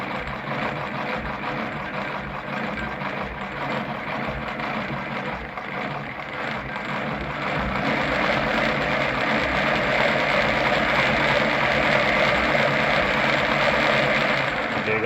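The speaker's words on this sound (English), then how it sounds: "so that's how you wind your bobbin" A Gritzner VZ heavy-duty sewing machine winds a bobbin with a steady, continuous motor whir and mechanical hum that grows slightly louder partway through and runs on without pause.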